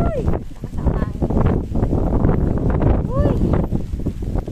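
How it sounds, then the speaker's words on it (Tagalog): Strong wind in Batanes buffeting the microphone in heavy, rumbling gusts while people talk and exclaim over it, close and loud throughout. "Lakas ang hangin."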